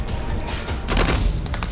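Rapid gunfire bursts from a dramatized battle scene, a dense rattling fusillade of overlapping shots that grows sharper toward the end, loud and continuous with no speech.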